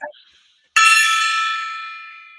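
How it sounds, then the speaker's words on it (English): A big monastery gong struck once for the 4 a.m. wake-up, hitting with a sharp bright attack and then ringing on in a long metallic shimmer that fades slowly. "you would hear the big gong at 4 o'clock in the morning"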